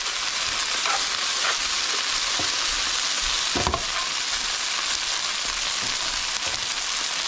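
Chicken pieces for chicken cacciatore frying in a pan, a loud steady broadband sizzle with occasional sharper pops and a clatter near the middle, no voices.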